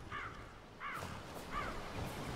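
Three crows caw in Skyrim, evenly spaced about a second apart, each a clear harsh call at moderate distance over a soft background hum.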